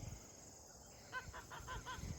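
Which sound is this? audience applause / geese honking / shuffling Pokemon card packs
geese honking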